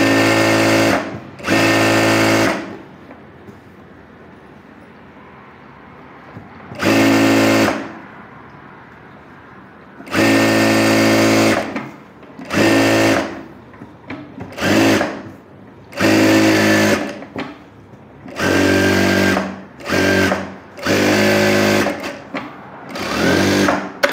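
Sewing machine stitching umbrella frock fabric, running in repeated short bursts of whirring, some brief and some a second or more long, separated by quiet pauses, close and fairly loud.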